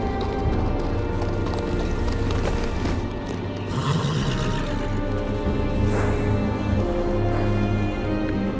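Horse hooves clip-clop steadily under dense game music and ambience in a Game of Thrones video game, arriving at the Wall of the Night's Watch.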